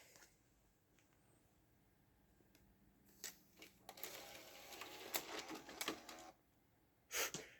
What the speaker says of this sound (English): I can show you the disk drive in action now.